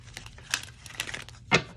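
Slick, durable oracle cards from a Sibyls Oraculum deck are bridge shuffled up close, producing a brief burst of crisp riffling clicks and a soft flutter that ends in a sharper snap.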